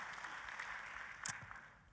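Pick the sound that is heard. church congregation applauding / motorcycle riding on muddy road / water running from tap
church congregation applauding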